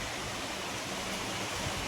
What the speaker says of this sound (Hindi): देखिए अभी तेज़ हो रही है बारिश, काफ़ी तेज़ हो रही है।